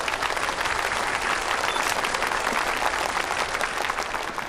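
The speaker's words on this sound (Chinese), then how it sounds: "现在，让我们掌声欢迎车厘子老师为大家分享。" Steady applause from an audience welcoming a speaker onto a stage, dense and even clapping sustained throughout at moderate volume with no talk over it.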